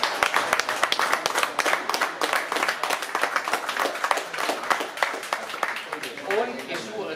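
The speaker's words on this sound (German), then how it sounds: "ein Applaus bitte" Audience clapping at a professional boxing weigh-in for a European championship bout at a supermarket in Essen, dense rapid claps throughout with voices and crowd chatter mixed in.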